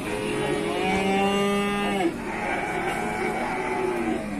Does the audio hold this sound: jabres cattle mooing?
yes